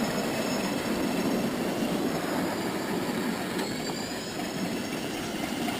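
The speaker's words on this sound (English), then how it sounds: "the garage where we keep the train" A miniature park train rolls along its track at a ranch with a steady rumble, rhythmic wheel clatter and a thin high squeal from the wheels, fairly close and continuous with no voices.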